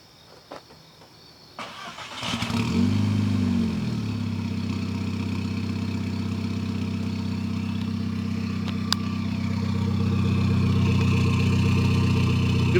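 An Audi A3 2.0T diesel engine with an upgraded exhaust cranks and catches, then settles into a steady, rumbling idle that continues loudly and close, with no one talking.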